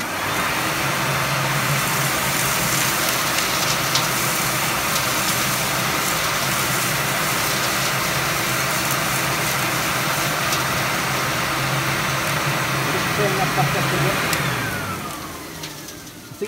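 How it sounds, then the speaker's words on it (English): A CamVac dust extractor fitted with a homemade cyclone pre-filter runs continuously with a loud, close, broadband roar as dirt is sucked through, then spins down near the end. "I'm going to turn it on, and then obviously we'll feed some dirt into it"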